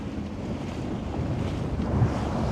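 Wind gusts and breaking waves around a sailboat in Fiji, heard as steady, loud broadband rushing with a slight swell toward the end, and no one talking.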